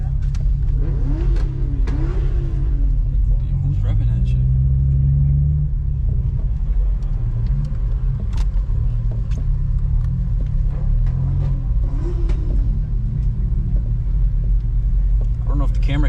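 A car engine revs at a car meet, deep loud rumbling with rising and falling revs in the first half and another rev near the end, over a constant idle while people talk nearby.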